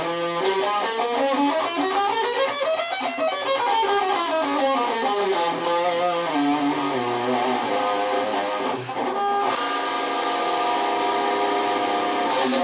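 A diminished scale played as a melodic instrument line, rising and falling stepwise in repeating patterns, then settling into held, ringing tones; loud, close and steady with no talking.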